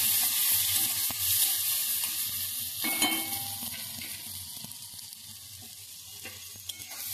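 Steady sizzling of spices frying in a hot pan for a thin egg curry, a continuous crackling hiss with occasional pops and a faint clink near the middle.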